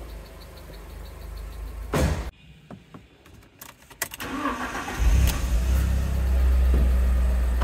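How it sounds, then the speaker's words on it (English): An Alfa Romeo GTV engine, warmed up after crash repair work, runs with a steady low rumble. A dull thump comes first, then the engine note swells and holds loud and close to the end, with no talk. "The engine has had a little bit of time to warm up, but if you can hear, it's a lot quieter now."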